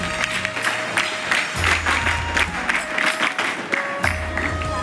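Clapping rises from an audience at a World Scarf Day 2025 celebration, a dense, steady patter of many hands held at an even level throughout.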